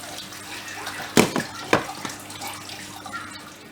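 Tap water runs steadily in a kitchen while meat with prunes is being cooked, with a few close clunks and knocks of utensils or dishes over the flow.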